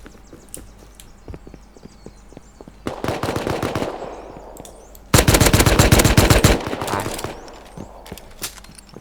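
Gunfire in the survival game Rust, scattered single shots, then two loud sustained bursts of rapid automatic fire, with clip-clopping horse hooves and footsteps between them.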